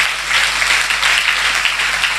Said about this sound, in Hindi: अभी आपने तालियां बजाई